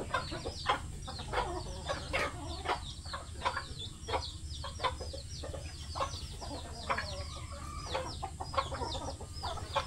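A flock of chickens clucks busily and continuously, many short overlapping calls nearby, with a low steady hum underneath.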